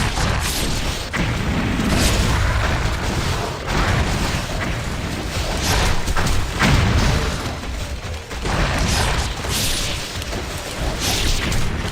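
Booming rocket explosions from an enemy rocket launcher in Ninja Gaiden II roll in repeatedly, dense and loud, layered over constant combat clatter and impacts with no break.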